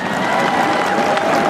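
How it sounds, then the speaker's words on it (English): Kids who just finished a Power Wheels demolition derby at West Niagara Fair Grounds get a loud, dense round of crowd applause with scattered cheers, clapping nonstop throughout. "Let's have a nice round of applause for all of these kids out here"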